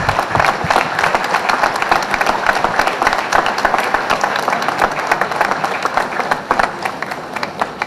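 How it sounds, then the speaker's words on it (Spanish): Audience applause in a large crowd at the opening of an automotive facility, dense steady clapping that keeps on throughout, loud and close. "a quien quisiera que le den un fuerte aplauso."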